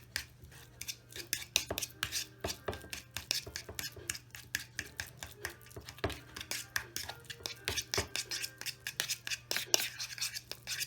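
Avocado mashed and scraped up the sides of a bowl for a guacamole-like spread, a busy run of close, rapid scraping and rasping strokes over a steady low hum, with no talking.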